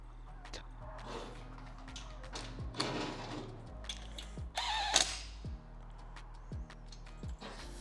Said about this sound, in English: We're gonna go ahead and tighten that up